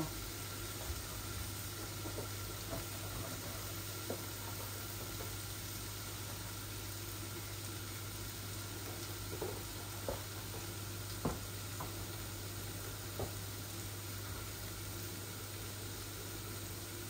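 An egg sizzles steadily in a hot frying pan, a soft continuous crackle with occasional faint pops and stirring ticks, close but quiet beneath a low hum.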